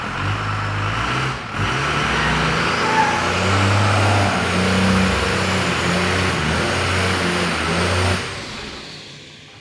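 A Cummins-engined Nissan Patrol revs hard, a loud, close, sustained rumbling roar that holds steady for about eight seconds before dropping away to quiet.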